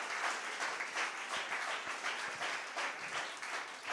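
A church congregation claps and applauds together in a steady, lively wash of hand claps that fills the room at moderate distance.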